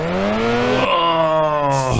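A car drifting in the Drift21 driving simulator with a tuned suspension: a loud, steady engine tone and sustained tire squeal that shift pitch as the car slides, with no talk over it.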